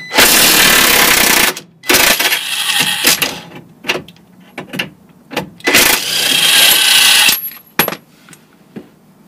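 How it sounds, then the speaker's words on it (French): An impact wrench works a bolt on a car's suspension control arm, firing two long loud hammering bursts separated by clanks and shorter rattling pulses of the tool, heard up close. "Et coup de clé à choc, bien sûr."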